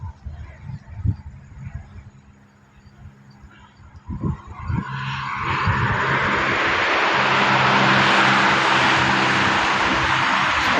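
A helicopter arrives overhead in Canada, its engine and rotor roar swelling from a distant rumble into a loud, steady, broadband wash that drowns out the surroundings.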